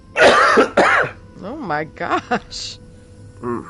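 Harsh coughing and throat clearing burst out close by at the start, followed by a person talking in short phrases.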